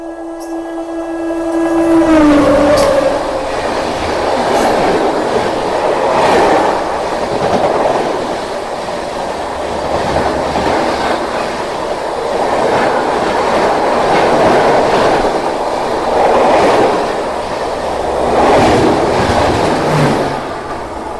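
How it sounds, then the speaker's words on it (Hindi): The superfast Pratap Express overtakes the Duronto Express, heard from aboard: a horn blast, then a loud, continuous roar with rhythmic clickety-clack of wheels on rails as the trains rush past closely. "सुपर फास्ट ट्रेन ओवरटेक मार के जा रही है दुरंतो को।"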